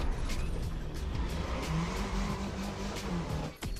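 A Volkswagen GTI in The Crew Motorfest holds its top speed of about 270, the engine droning loud and steady with a continuous mechanical whine and road roar, ending in a brief dip near the close.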